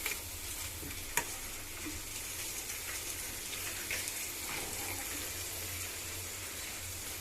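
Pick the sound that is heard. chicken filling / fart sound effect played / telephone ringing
chicken filling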